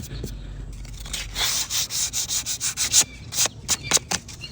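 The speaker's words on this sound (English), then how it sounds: "it's easier just to sand it down and sand it off" Sandpaper scrubs chipped paint off a wooden rocking chair in a quick run of rhythmic back-and-forth strokes, close and fairly loud.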